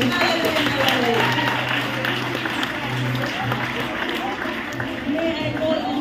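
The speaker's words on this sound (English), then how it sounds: "Can we give a hand clap of praise to the Lord?" Congregation clapping in praise at a church discipleship recognition service, a steady broad wash of applause sustained throughout, with voices mixed in underneath.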